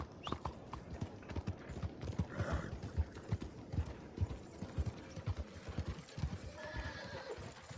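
Horse hooves clip-clop in a steady, close rhythm in the video game Red Dead Redemption 2, with a brief whinny and faint mechanical clicking alongside.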